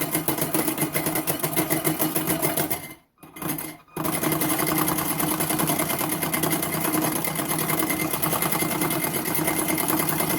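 A loud, steady mechanical drone and whine from the engine room of a radio-controlled lumber hooker model ship, running continuously apart from a brief dip and cut-out partway through.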